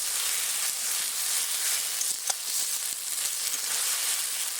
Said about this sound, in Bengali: মশলাটা আমার তেলে ভেজে নেওয়া হয়েছে, এবার আমি এর মধ্যে দিয়ে দেব কুচিয়ে রাখা টমেটো।